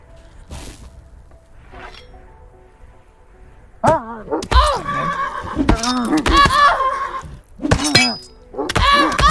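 A horse in the online role-playing game Mortal Online 2 whinnies several times in loud, wavering cries, mixed with thuds and clattering and a voice talking briefly before.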